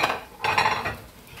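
A wire whisk stirs a cream mixture for chicken à la king in a pot, giving soft, irregular scraping and clinking strokes that rise in a short burst in the middle, close and moderately quiet, with no talk.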